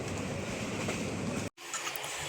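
Steady broadband rumble and rattle inside a mostly empty carriage of a moving Bangladeshi passenger train from Joypurhat to Jessore, loud and continuous, with a brief dropout before the noise resumes.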